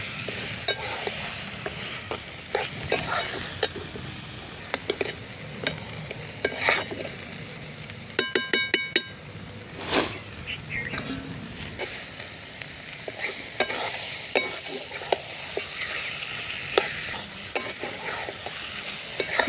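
Rohu fish head cooks down with spinach and cumin paste in a pan, a steady low sizzle broken by the repeated scrape and clatter of a spoon stirring. No one speaks.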